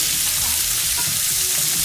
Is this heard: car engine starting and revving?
no